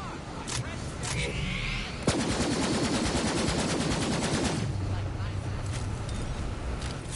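Video game combat with heavy rattling automatic fire and explosive blasts, one sharp crack partway through, loud and sustained with a steady engine-like rumble beneath, a voice talking over it.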